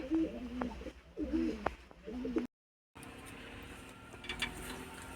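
Pigeons coo in a breeding loft, a few soft, repeated low coos close by in the first half and fainter calls later. A brief silent gap breaks the sound midway, and there is no talk.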